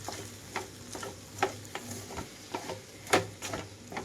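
Mushroom fried rice being stirred in a pan over medium flame, with scattered scraping and clicking strokes of the spatula in an irregular rhythm over a faint sizzle, close and fairly quiet.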